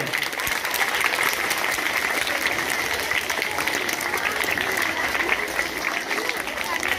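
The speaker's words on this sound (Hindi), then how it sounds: "मैं सभी बच्चों से गुजारिश करता हूँ आप खुद के लिए एक बार जोरदार तालियां बजाएं" A crowd of schoolchildren claps loudly for themselves in a continuous, even burst of applause that holds steady for about seven seconds.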